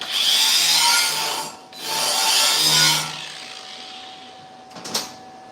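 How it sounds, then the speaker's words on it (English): Broadband hissing and crackling of a welder running long beads over tacked joints on a homemade steel frame, two sustained bursts of a few seconds each, close and loud, then a quieter stretch with a brief clank near the end. "Time to turn them tacks into welds."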